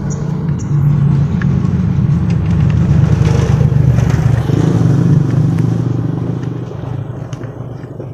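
A vehicle engine with a freshly repaired push starter runs at a steady, loud idle close by, a low continuous rumble with light rattling on top, and no talk over it.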